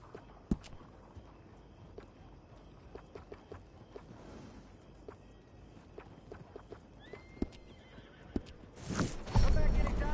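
Horse in the Red Dead Redemption 2 video game whinnies and clops its hooves amid game ambience, with brief speech in the background and a louder burst of neighing and movement near the end.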